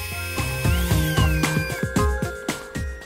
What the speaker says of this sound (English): First, I use a 2mm drill.